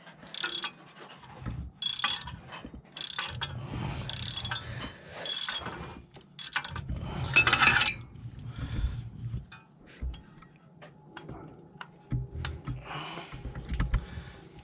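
A ratchet with a 10mm deep socket works a nut loose on a Volvo V70 S non-turbo during catalytic converter replacement, giving bursts of close, crisp clicking in uneven runs separated by short pauses.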